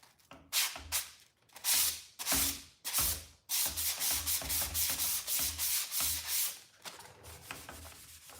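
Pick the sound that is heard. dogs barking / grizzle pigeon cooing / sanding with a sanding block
sanding with a sanding block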